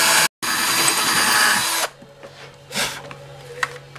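A power drill bores a hole through a wooden guitar neck. The whine is loud and steady, breaks off for a moment near the start, then stops, leaving a few faint knocks and handling sounds.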